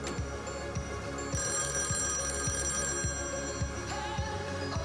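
A telephone bell rings in repeated bursts over a steady background hum, fairly loud and continuous throughout.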